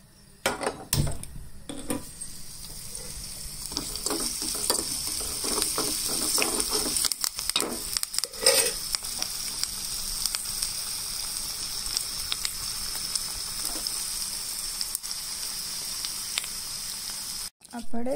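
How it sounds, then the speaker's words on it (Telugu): Garlic sizzles and fries steadily in hot oil as the tempering for a grated mango pickle cooks, with occasional clinks of a spoon against the pan and a voice speaking over it. "ఈ విధంగా ఈ వెల్లుల్లి కూడా పచ్చివాసన వెళ్ళేంత వరకు కొంచెం వేయించుకోవాలి"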